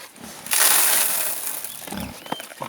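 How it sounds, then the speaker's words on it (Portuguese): A farmyard pig crunches corn kernels from its feed, giving close, crackly bursts of chewing and cracking that are loudest early on and then continue more irregularly, with no talking. "Olha os estraladinhos dela com o meu milho"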